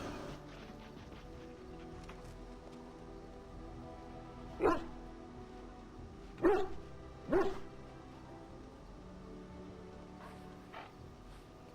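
Dog in the camp of Dragon Age: Origins, giving three brief barks at a moderate distance over a quiet, humming ambient background, with no talk.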